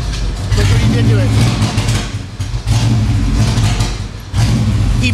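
A street-tuned car with a burble tune idles and revs nearby, its exhaust rumbling and crackling in uneven pulses while someone talks over it.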